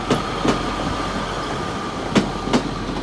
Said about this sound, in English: Quite busy on that train.